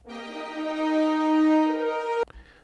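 A sustained brassy orchestral chord swells and holds for about two seconds, then cuts off abruptly.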